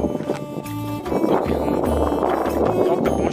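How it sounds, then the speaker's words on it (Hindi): Strong wind roars steadily across the microphone on a mountain in the Himalayan range in Gilgit-Baltistan, Pakistan, a constant buffeting rush with low rumbling gusts throughout. "इस साइड से तेज़ हवाएं चल रही"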